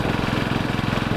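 A Royal Enfield 500 Classic Chrome single-cylinder engine thumps steadily while riding, a loud, even low-pitched pulse continuous throughout with no talk.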